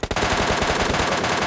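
Rapid bursts of MK-14 rifle fire in the PUBG Lite video game, loud and close, with tightly spaced shots forming a continuous volley.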